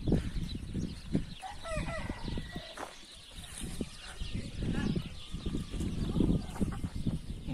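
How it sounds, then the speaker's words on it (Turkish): Growing Splash Wyandotte and turkey chicks cluck and peep steadily nearby, with short calls and brief crowing-like cries scattered across a lively flock. "görüyorsunuz civcivler artık bayağı büyüdü"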